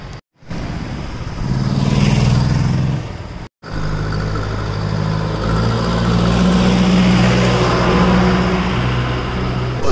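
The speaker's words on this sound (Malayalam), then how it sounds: "ഒരു വണ്ടി നിർത്തിയിട്ടുണ്ട്." A car on a roadside highway in Dakshina Kannada slows and pulls up to a stop, its engine a steady, close rumble with passing traffic around it, broken by a brief gap near the start and again mid-way.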